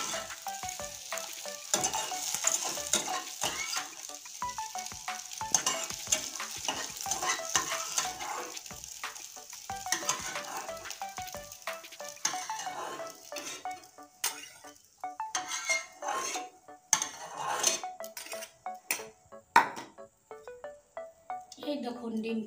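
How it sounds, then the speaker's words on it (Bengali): Fried egg lifted from a sizzling frying pan, steady frying crackle throughout with scraping and occasional clinks of the utensil against the pan, and a voice talking over it. "দেখুন আমি ডিমটা ভেজে নিয়েছি, এখন আমি উঠিয়ে নিচ্ছি।"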